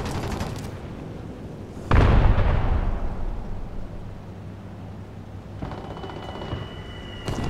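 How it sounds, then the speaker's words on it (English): A bomb goes off in a tank battle game with a Panzer III M, one sudden heavy blast that rumbles and fades over a few seconds, with quieter engine and battlefield noise continuing around it. "That's a bomb."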